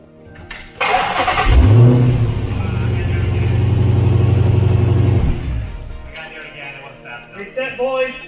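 A Dodge Hellcat V8 fires up with a deep bark and holds a loud, steady rev for several seconds before cutting off, with people talking quietly afterward.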